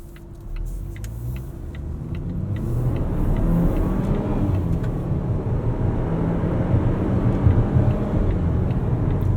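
A 2019 Volvo XC40 T5 AWD R-Design accelerates hard, its engine rising in a steady low rumble with road and tire noise building from inside the cabin, loud and continuous with no talk.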